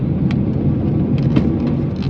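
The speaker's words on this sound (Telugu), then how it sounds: "వర్షం పడుతుంది." Heavy rain pelts a car on a dark night road from Coimbatore to Ooty, a dense constant hiss and rumble with occasional sharper drop spatters and no voices.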